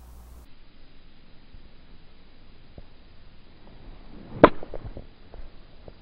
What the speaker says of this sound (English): Here's a little half shot with an 8-iron.